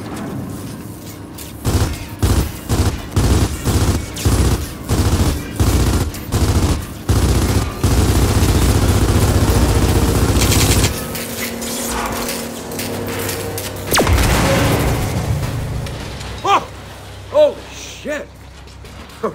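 Rapid bursts of automatic gunfire from Gears of War 4 are aimed at a glowing core, a long rhythmic volley of loud shots, then rumbling boss-battle noise and a few scattered later shots, with game voices talking over parts.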